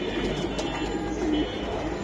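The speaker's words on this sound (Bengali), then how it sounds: "সিলভার কবুতর তাই না ভাই?" Silver pigeons coo softly at a pigeon seller's, a short low cooing over a steady background murmur.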